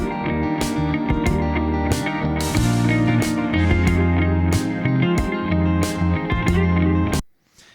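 An electronic song sequenced on a Novation Circuit, an unmastered mix print with steady driving beats, dense synth layers and heavy low end, loud and continuous, then cutting off abruptly near the end.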